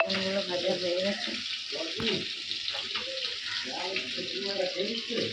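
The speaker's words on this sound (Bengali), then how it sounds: "মাছগুলো ভাজা হচ্ছে।" Fish frying in a pan makes a steady, close sizzle throughout, while people talk over it.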